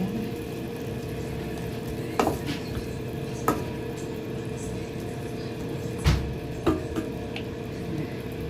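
Squid with vinegar and a little sugar is stirred in a cooking pan, giving a low steady cooking hiss broken by a few scattered clinks of the utensil against the pan.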